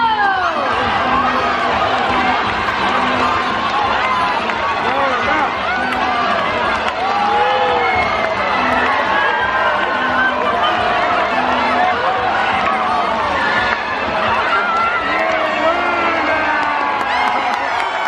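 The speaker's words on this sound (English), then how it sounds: "Now Zonda supporters, you have to cheer much louder." A crowded audience at a bird show at Jurong Bird Park, Singapore, cheers and shouts loudly and continuously, with children's voices and whoops mixed into the sustained roar.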